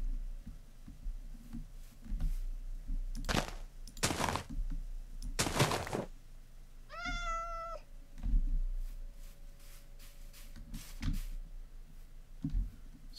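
A Minecraft cat gives one clear, wavering meow in the middle, surrounded by several loud broadband thumps and bursts of game noise, with no one talking.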